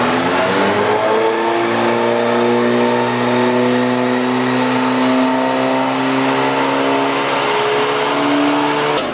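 Engine of a salvaged 116k-mile Audi TT Mk2 held at a loud, steady high-rev drone on a dyno, pitch climbing gradually through the run, close and constant with no voices.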